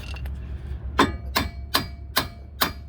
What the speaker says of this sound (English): you do want to tap on the axle just a little bit so you can get it moving